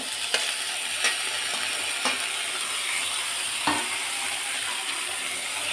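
Chopped tomatoes go into a pan of frying brinjal, a steady close sizzle broken by several sharp spoon-against-pan clinks while stirring, no voices.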